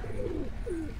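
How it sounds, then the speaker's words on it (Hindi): A pigeon held in the hand gives two soft close coos in quick succession over a low background hum. "एक कबूतर ये आप मेरे हाथ में देख रहे हैं"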